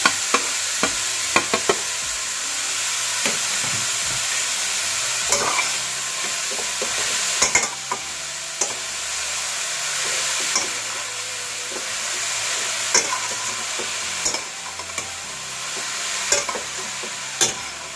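Grated carrots stirred in ghee in a pan for carrot halwa: a soft continuous sizzle and hiss with intermittent scraping and clinking of the spoon against the pan, close by, no talking.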